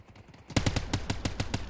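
Rapid automatic gunfire in the video game Ascendant: a quiet stretch, then a loud burst of about nine evenly spaced shots in quick rhythm, close and punchy, with no talk over it.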